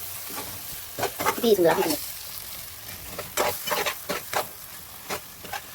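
A fish curry frying in a pan is stirred, with a spatula scraping through the sizzle in short bursts, close up, while a voice briefly speaks.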